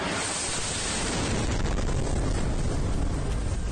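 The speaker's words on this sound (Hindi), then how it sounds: "और तभी एक बड़ा धमाका होता है।" Large blast during an attack on the streets of Kyiv, heard as a dense, loud roar of broadband noise that fills the whole clip without a clear onset or decay.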